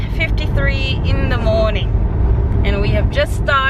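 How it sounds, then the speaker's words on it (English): A steady, loud road roar fills a car cruising on a highway at 110 km/h in Australia, with people talking over it throughout. "We will be driving at 110 kilometers per hour, so that'll be interesting."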